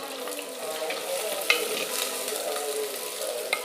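Chopped shallots and onions sizzle steadily in hot coconut oil in a pan, a continuous close frying hiss with occasional stirring scrapes.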